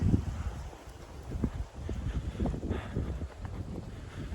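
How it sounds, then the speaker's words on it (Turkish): Strong wind on the Bilkent University campus in Turkey buffets the microphone with low rumbling gusts that rise and fall continuously. "Çok fazla rüzgar var."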